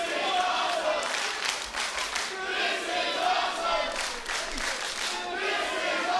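A wrestling crowd at Championship Wrestling from Hollywood chants in unison with steady rhythmic clapping, a loud, dense wash of voices and claps that rises and falls in repeated beats throughout.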